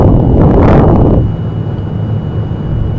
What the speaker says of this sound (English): just let y'all listen to the engine sounds on this thing